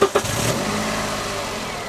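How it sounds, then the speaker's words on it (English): A Toyota Aygo 1.0 engine starting with a couple of quick cranking bursts, then settling into a steady, even idle after its throttle body was cleaned, heard close. "Now let me start the engine and see how it sounds."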